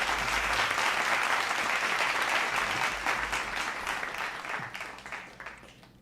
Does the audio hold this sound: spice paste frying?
no